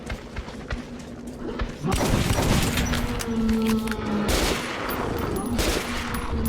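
Rapid bursts of incendiary-round gunfire in the game Metro Redux crackle and boom over a low background hum, growing louder and denser partway through.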